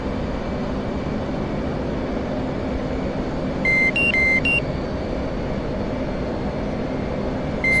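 A loud, steady roar of machinery during night operations on an aircraft carrier, with a short sequence of electronic beeps in a few quick tones about halfway through.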